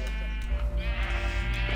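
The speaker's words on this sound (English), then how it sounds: "all your sheep keep dying" A sheep bleats in the Minecraft video game, a single drawn-out wavering call heard loud and close.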